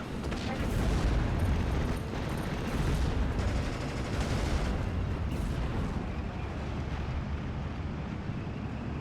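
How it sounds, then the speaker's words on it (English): Rocket artillery barrage in the WWII strategy game Steel Division: Normandy 44, with Wurfrahmen launchers firing: a dense, continuous roar of overlapping blasts and rumbling explosions, loud and sustained throughout. "Both myself and Betts putting down a full barrage of rockets onto this area"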